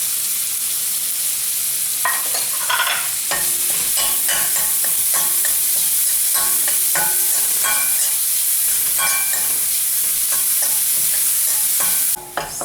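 Finely chopped onion fries in a pan for chicken stroganoff with broccoli, a loud constant sizzle broken by repeated clinks and scrapes of a stirring spoon, close up with no voices.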